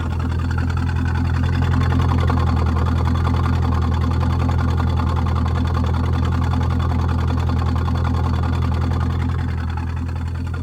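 A loud, steady Corvette C5 V8 idle with a muffler delete, a deep, continuous rumble and rapid throbbing pulse, unchanging throughout with no voices.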